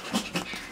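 A puppy panting and whimpering close up, with two or three quick breathy pants and faint whines in a brief burst.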